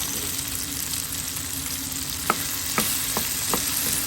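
Bottle gourd (upo) sautéing with pork in a pan, a constant hissing sizzle with a few sharp spatula clinks against the pan in the second half, no talking.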